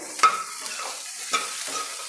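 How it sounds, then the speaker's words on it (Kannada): Vegetables fry in hot oil with a spice tempering for sambar, a soft continuous sizzle broken by two sharper scraping stirs of a spatula in the pan. "ಒಂದು ಐದು ನಿಮಿಷ ಇದೇ ಥರ ಎಣ್ಣೆಯಲ್ಲಿ ಫ್ರೈ ಮಾಡಿದ್ದೀನಿ ಒಗ್ಗರಣೆ ಜೊತೆ"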